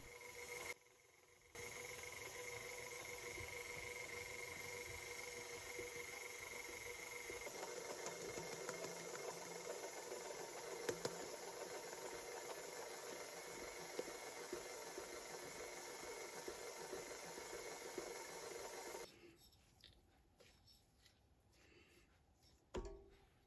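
KitchenAid stand mixer kneading sandwich bread dough, a steady motor whir with a hum and rhythmic churning, running continuously up close before cutting off near the end, leaving quieter room noise.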